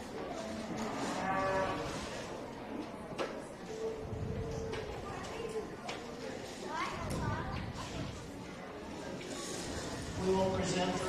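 Market-weight beef cattle moo intermittently in a show ring at a county fair beef show, low bellows rising now and then beneath an announcer talking over a public address system amid arena noise.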